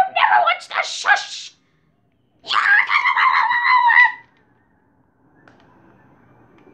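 Shrill, loud character screams from Mario Party 5 come in two bursts, the second one long and sustained, with a short stretch of silence between them and faint game sound afterward.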